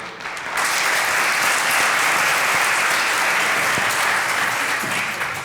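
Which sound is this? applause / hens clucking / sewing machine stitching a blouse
applause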